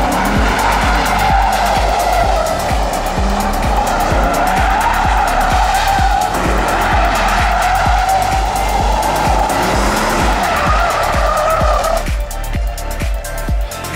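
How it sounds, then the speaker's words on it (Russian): An Audi A4 skids as it arrives, its tires squealing loudly and continuously over a rumbling engine for most of the stretch before the noise eases near the end. "нам привезли очередной автомобиль"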